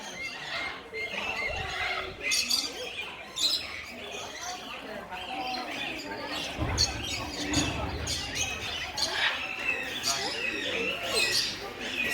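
Birds at a bird sanctuary squawk and chirp in bursts, calls layered close and overlapping across the whole span, with people talking softly beneath.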